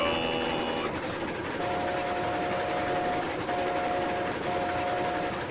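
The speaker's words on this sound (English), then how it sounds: "I'm still hearing that whistle. Damn, dude, that thing is loud." Steam locomotive whistle in the train game Railroads Online: a sustained steady tone sounding in several long blasts with short breaks, over constant engine and rail noise.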